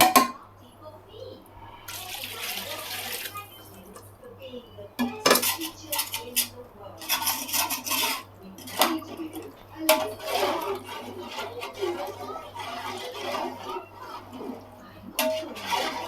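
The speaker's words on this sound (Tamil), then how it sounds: "தண்ணி ஊற்றிட்டு நல்லா கலக்கி விட்டுக்குங்க" Water poured into a pot of mutton biryani and stirred with a metal utensil: bursts of splashing and scraping clatter come and go near at hand, with a voice talking between them over a low hum.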